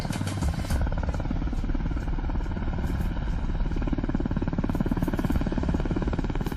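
An Air Force rescue helicopter with anti-missile defenses drones loudly and steadily, its rotor thumping in a fast, even beat with a constant engine whine and no voices over it.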